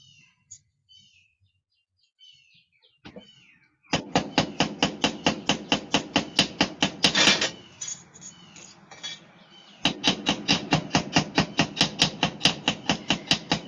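A small hammer taps a tiny copper half rivet in two long runs of rapid, evenly spaced metallic strikes, sharp and close, after a short quiet stretch with faint handling.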